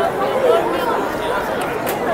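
Crowd chatter fills the space around the Brussels flower carpet, a steady murmur of many voices blending into an even, close babble throughout.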